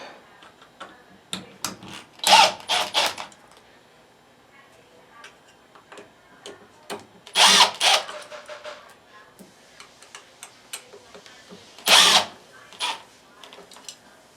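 A power drill backs screws out of the isolator mount on an LG or Kenmore front-loading washing machine, heard as three loud, separate whirring bursts spaced a few seconds apart, with quieter clicks and handling noises between them.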